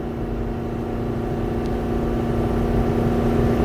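Nissan GU Patrol engine running at nearly 4,000 rpm while cruising at 70 km/h, a steady loud droning hum with strong low tones and constant road and wind noise, no change in pitch throughout.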